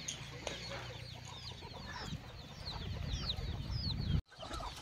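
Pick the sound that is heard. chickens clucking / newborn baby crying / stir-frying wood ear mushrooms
chickens clucking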